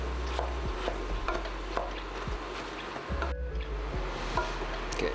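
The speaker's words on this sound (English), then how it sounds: "1 pound of ground beef, 1 pound of ground pork, and 1 pound of turkey. We're gonna let that start to cook." Ground beef, ground pork and turkey starting to cook together in a pot for Texas chili, a steady low sizzle with occasional scrapes and taps of stirring throughout.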